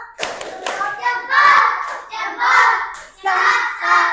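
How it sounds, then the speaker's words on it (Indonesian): A classroom group in a primary teacher-training lesson performs the 'tepuk jempol' clapping routine, with sharp rhythmic hand claps mixed with voices chanting along in bursts, close and lively. "Sekali lagi ya, kita kasih tepuk jempol. Tepuk jempol."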